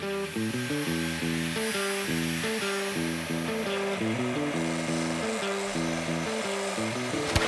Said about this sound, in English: Okay, so that's how you shorten a screw. Just cut it, grind it smooth